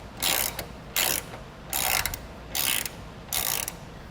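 A T50 Torx bit ratchets as it loosens the outside hinge bolt on a Jeep tailgate, giving five close, crisp bursts of clicking separated by short pauses.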